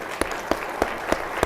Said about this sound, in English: Just a quick round of applause for all of them to be joining us today.